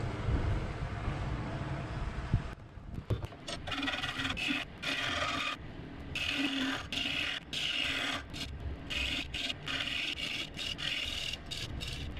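Steady rasping and scraping of a woodturning tool shaping a cedar piece, continuous with brief pauses and irregular strokes, close and moderately loud, no voices.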